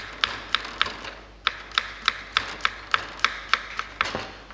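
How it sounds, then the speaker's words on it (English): A knife chopping garlic cloves on a board, giving a steady run of about a dozen crisp, evenly spaced taps, close and fairly quiet. "we have to chop these garlics"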